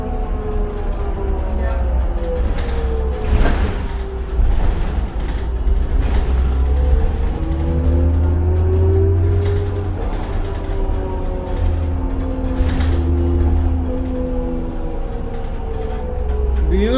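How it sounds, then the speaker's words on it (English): Cummins diesel engine of a 2001 New Flyer D40LF transit bus heard from inside at night, a loud steady low rumble with rising and falling whine as it accelerates and shifts. "Beautiful Cummins engine in these."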